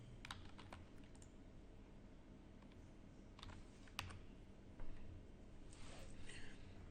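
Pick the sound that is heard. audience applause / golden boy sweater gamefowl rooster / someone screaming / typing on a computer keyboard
typing on a computer keyboard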